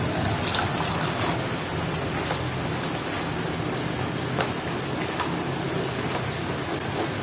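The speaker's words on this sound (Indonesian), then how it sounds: "Kalau hujan sudah datang. Iya, hujan." Heavy rain pours steadily beside a swollen river, a dense continuous hiss with scattered drop splashes throughout, no voices, loud and close.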